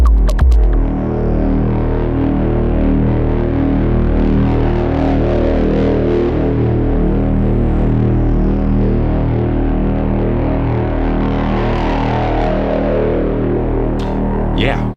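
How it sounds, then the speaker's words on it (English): A Moog Mavis synthesizer plays a thick, sustained FM-style drone with distortion and reverb, a loud, continuous buzzing tone with throbbing movement and a slowly shifting upper sweep for about fifteen seconds, no voices. "that big FM sounding drone with some distortion and reverb on it in the background"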